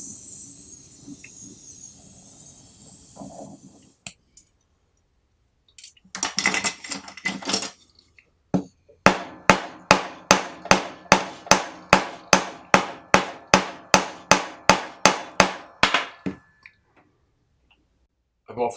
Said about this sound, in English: I can anneal this and hammer it down so that it's thinner.